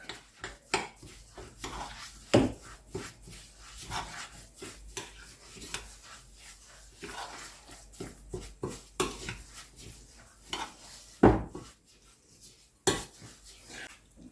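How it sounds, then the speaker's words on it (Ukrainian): Grated farmer's cheese mixture stirred in a bowl for a poppy-seed cheesecake filling, giving repeated close scraping and clinking of a utensil against the bowl in an irregular rhythm, with no talk. "І буду перемішувати з сиром. І все перемішуємо так."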